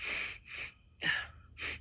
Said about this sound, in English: I'll keep sniffling here.